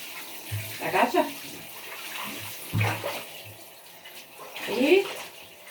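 Water from a handheld shower splashes and runs in uneven gushes as clothes are rinsed without a washtub or washing machine. Voices speak intermittently over the water.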